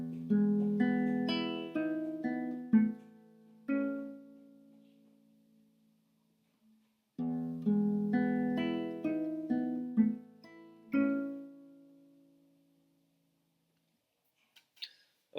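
Guitar plays the intro of Birds Flew Over The Spire, picked melodic phrases with ringing notes that decay, a pause, then the phrase repeated, clean and close with no talk.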